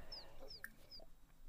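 A chicken clucking on a farm in The Sims 4, a few short, faint chirpy clucks scattered over quiet game background sound.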